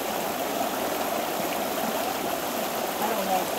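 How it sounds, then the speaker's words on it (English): Steady stream water flows and splashes beside a beaver pond, a constant close rushing wash with no break across the whole stretch. "There's all the water coming from that way."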